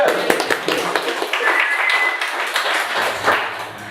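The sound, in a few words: audience clapping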